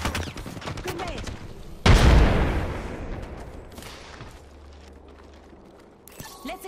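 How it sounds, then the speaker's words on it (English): Video game gunfire erupts in a sudden loud burst of shots and a heavy boom, then trails off into rumbling echoes before another short volley near the end. "Getting shot at."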